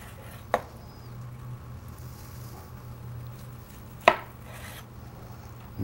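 A knife cuts through a mozzarella cheese roll on a board, giving two sharp, separate chopping knocks a few seconds apart over a quiet, steady kitchen hum.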